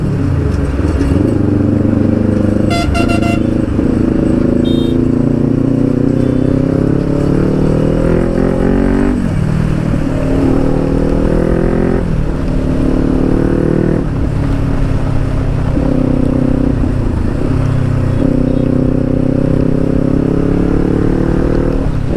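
A Kawasaki Ninja 400 fitted with a loud Akrapovic exhaust roars continuously on a ride, with repeated rising and falling revs as it shifts through the gears. The engine is close and very loud throughout.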